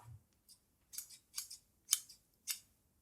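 Quiet, crisp snips of scissors cutting fabric for a tote bag, about five short cuts in a loose rhythm, close to the microphone in an otherwise silent room.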